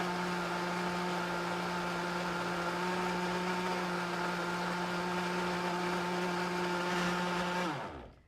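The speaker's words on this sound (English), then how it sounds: "I've got 2 ripe bananas that I'm going to get going in the blender here" A blender whirs steadily at high speed with a strong motor hum for several seconds while blending two ripe bananas, then winds down and stops.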